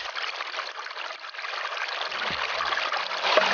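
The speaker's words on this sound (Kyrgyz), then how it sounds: "азыр суу куюп суу ичип кетебиз" Water from a mountain spring near Ai-Köl lake in Isfana trickles and splashes steadily as it is poured, a close, continuous hiss that grows slightly fuller toward the end, with a few low knocks.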